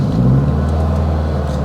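Honda Civic Type R, being built up as an all-wheel-drive car, driving with a steady low engine drone and road rumble close and continuous, no voices over it.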